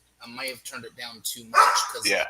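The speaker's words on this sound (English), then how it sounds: "I just muted because my dog was barking." A dog barks in the background during a voice call, a short burst of barking breaking in near the end while a person keeps talking over it.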